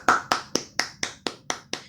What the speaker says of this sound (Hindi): एक तालियां आप सभी के लिए गाइस।